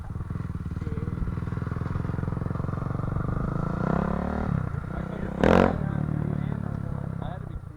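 Engine of a 2006 Honda CRF 450 dirt bike, a steady close motor drone with a rise in revs near the middle and a brief loud burst toward the end, with a voice talking over it.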